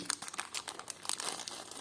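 Close, crisp crinkling of a thin plastic packet holding vintage jewelry, a quick series of rustles and crackles handled for a couple of seconds.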